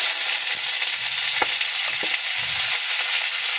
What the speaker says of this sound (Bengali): একটু দেখি এগুলো দিয়ে ভেজে দিই।